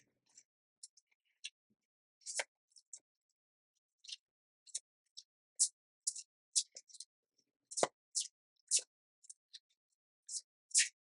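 Tarot cards are shuffled and cut in a quiet room, giving sparse, crisp clicks and soft riffling snaps in irregular bursts, close and faint, with no talking.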